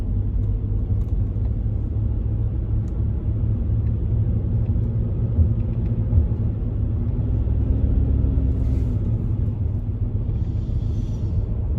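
A car cruises along a highway, its cabin filled with a steady, loud low rumble of road and engine noise that holds constant throughout.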